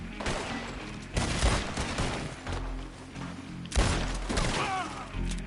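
Gunfire in the Western video game Red Dead Redemption 2, a volley of overlapping shots and booming reports in clusters, fairly loud with no clear talk.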